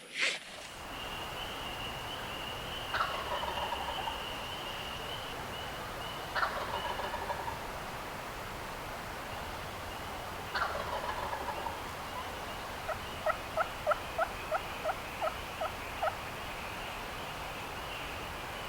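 A wild turkey gobbler in the Georgia woods answers calls with several distant gobbles spaced a few seconds apart, followed by a rapid run of short clucking notes, all over a steady outdoor hiss.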